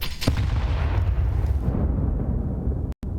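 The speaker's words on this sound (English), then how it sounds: "Nade lands." A grenade lands with a burst during a professional Counter-Strike match at ESL Pro League Season 21, GamerLegion versus paiN, on the B site. A loud boom sits over sustained rumbling game noise, cut by a brief dropout near the end.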